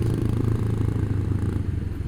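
Honda CBR sportbike engine idling and rumbling steadily in hot city traffic, a low, continuous close-up drone with faint clatter and no voices.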